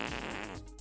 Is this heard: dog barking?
no